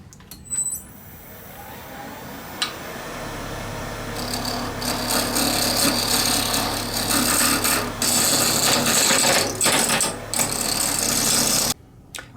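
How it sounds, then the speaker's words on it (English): A deer antler turns on a lathe against a carbide cutting tool, giving a steady, close grinding and scraping drone with a low hum. It runs continuously for about nine seconds before cutting off abruptly. "And then I'm going to use carbide and turn this down."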